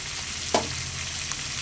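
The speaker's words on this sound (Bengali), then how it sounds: "সব কিছু একসঙ্গে ভালো করে কষে নেব।" Cumin and chili powder fry with tomato in a pan, making a steady sizzle. One sharp scrape or clink of a spoon stands out early, and no one talks.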